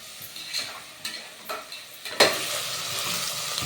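Fennel seeds and spices for a curry stir and scrape in a hot pan with a few distinct strokes, then a loud, steady sizzle takes over and holds to the end.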